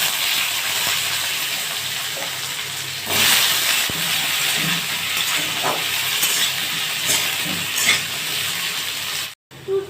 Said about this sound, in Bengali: তো আমি জিরে ফোড়ন দিলাম। এবার আলুগুলো একটু লাল লাল করে ভেজে নেব।